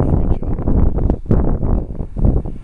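Cold wind buffets an outdoor microphone in rough, uneven gusts, loud and boomy, with a voice speaking through the rumble.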